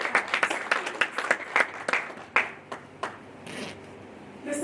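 Congregation clapping during a church service, a scattered burst of handclaps that thins out and fades over a few seconds, moderately distant with no clear talk over it.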